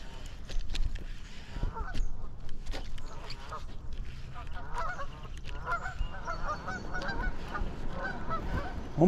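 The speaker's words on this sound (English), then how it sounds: "Oh my God, these geese." Geese honk repeatedly in a noisy outdoor scene by a river with heavy grass cover, with irregular calls layered over steady background rumble.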